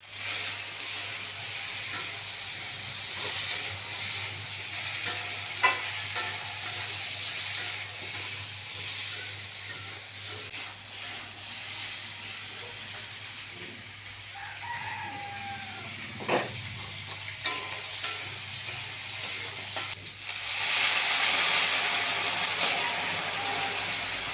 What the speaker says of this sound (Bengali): এদিকে দেখো তরকারিটা ফুটছে